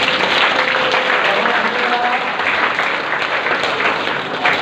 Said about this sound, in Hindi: और ताली बजा देंगे।